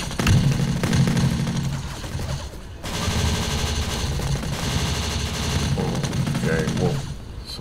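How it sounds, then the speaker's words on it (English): Rapid bursts of gunfire from the 2003 shooter game Kill Switch, an exchange of automatic fire running almost continuously, loud and close with a short lull near the middle. "Someone else shooting me?"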